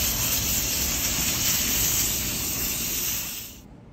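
A hose sprays water hard into a central AC condenser to wash out mud, making a loud, steady hiss that cuts off abruptly near the end.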